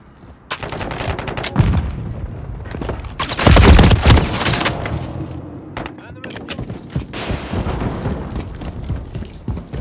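Bursts of gunfire and heavy weapon blasts from the video game CMW3, loud and dense, with a big concussive peak near the middle and a voice shouting under the shooting.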